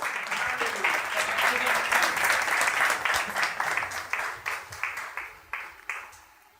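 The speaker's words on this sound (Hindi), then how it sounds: "जरा जोरदार तालियां अपने लिए बजाएं" A church congregation at a Christian sermon gives loud, sustained applause that stays full for several seconds, then breaks into separate decaying claps before fading out.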